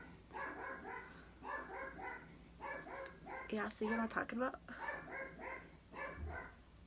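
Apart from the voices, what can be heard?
dog barking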